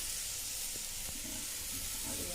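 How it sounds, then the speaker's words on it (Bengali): Potatoes frying in a pan give a steady, faint sizzle with soft hiss and a few light clicks, with no talking. "দেখো আলু ভাজা হচ্ছে"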